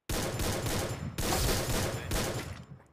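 Rapid, dense bursts of video game gunfire in Free Fire crackle continuously, with a brief break before another sustained volley; loud and close, sounding like a fast-paced shootout.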